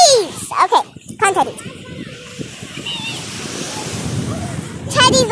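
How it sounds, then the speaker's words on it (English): Ocean surf washes in at a beach in Cyprus, a broad hissing roar that swells and fades as waves break, while children chatter and call out close by, at the start and again at the end. "let's go catch the waves with my nanny and Ali"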